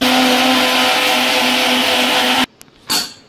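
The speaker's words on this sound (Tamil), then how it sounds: "எல்லாத்தையும் சேர்த்து இப்போ அரைச்சிட்டு வந்துடலாம்" A mixer grinder blending spices and tomatoes: a loud, steady motor whirs at high speed for a couple of seconds, then cuts off abruptly, followed by a brief rattle and a short whir.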